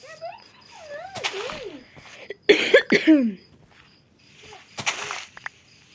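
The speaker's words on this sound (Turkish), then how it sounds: "Öksürük geldi be." Several harsh coughs burst out close by, bunched in the middle, amid a few softer throat sounds and pauses.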